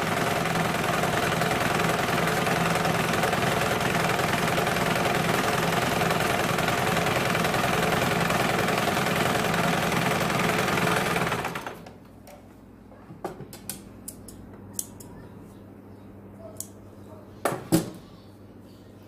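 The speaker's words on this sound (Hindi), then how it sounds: "यहाँ पे हमें डबल सिलाई लगानी है।" Sewing machine running a double line of stitching on a lined blouse, a loud steady whirring drone for about eleven seconds, then stopping and leaving faint clicks and handling noises.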